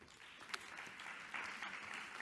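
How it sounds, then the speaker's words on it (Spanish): Audience applause for speakers at an international debate on geopolitics and food systems: a dense, steady crowd clapping, fairly quiet and distant in the room. "Un fuerte aplauso para ellos."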